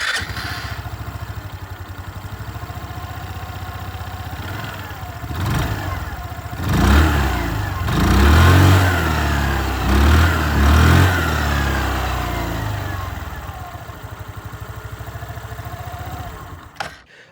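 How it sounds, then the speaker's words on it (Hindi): Hero Xoom 110 or TVS Jupiter 110 scooter exhaust revved in a few short throttle blips, rising to a loud mid-range engine note, then settling back to a steady idle close by. "एग्जॉस्ट साउंड जो मैं आप लोगों को यहाँ पर भी सुना दूँ"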